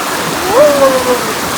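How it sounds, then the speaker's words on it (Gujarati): Heavy rain pours down in a dense, steady hiss that stays loud and close throughout, with a faint whistle briefly rising over it. "ફૂલ વરસાદ ચાલુ છે ફૂલ એટલે ફૂલ અતિશય વરસાદ આ બાજુ જો"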